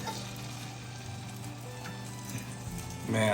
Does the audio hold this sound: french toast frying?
yes